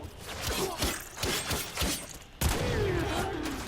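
In the video game Warframe, the Redeemer gunblade fires shotgun blasts: a rapid series of punchy bursts at moderate loudness, then a heavier blast followed by a sustained, ringing impact.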